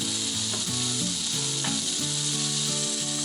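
A pork roast sears in an Instant Pot with a steady sizzle, and a rhythmic mechanical whirring drones throughout alongside it, fairly loud and close with no voices.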